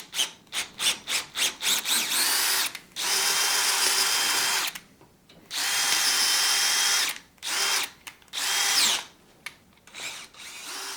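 A power drill driving an M10 spiral flute tap whirs in bursts, first several quick short pulses, then longer sustained runs separated by brief pauses, close and fairly loud.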